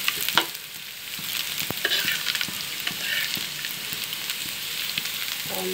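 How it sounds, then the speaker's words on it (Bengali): Onion, chopped garlic and green chilies fry in oil while a utensil stirs and scrapes the pan, a sizzling bed broken by irregular clinks and knocks of metal. "পেঁয়াজ, একটু রসুন কুচি, কাঁচামরিচ ভালো করে তেলের উপরে ভেজে নিচ্ছি।"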